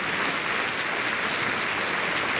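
A holiday concert audience applauds a young singer, a dense, even roar of clapping that holds steady and loud throughout, with no voices over it.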